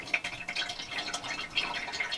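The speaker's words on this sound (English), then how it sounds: "In goes the antifreeze." Antifreeze poured into a water tank gives a soft, close liquid trickle with brief dripping splashes, steady and faint, with no talking.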